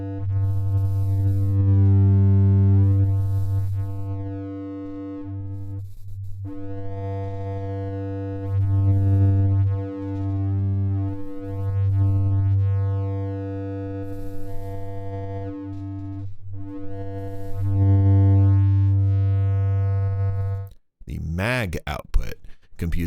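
Steady sine-wave tone run through an ANA 2 synthesizer module, a loud sustained buzzy drone with rich harmonics that holds for about twenty seconds before breaking into short warbling sweeps.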